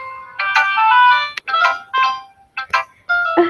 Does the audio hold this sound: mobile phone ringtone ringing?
yes